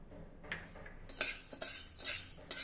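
Wheat grains are tipped into a kadhai and stirred over low heat, with irregular scraping and metallic clinks of a spoon against the pan, close and fairly quiet, with no talking.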